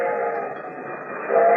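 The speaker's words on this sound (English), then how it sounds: "The train was coming closer. I could hear its bell. Her cry, its whistle crying." A radio drama effect of an approaching train with its bell and whistle: a steady, loud, sustained whistle-like tone that swells slightly toward the end, alone with no voices.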